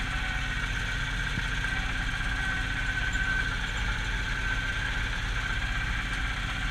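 A Zetor tractor engine idles steadily and loudly at close range, a continuous low rumble with no breaks or changes in pace.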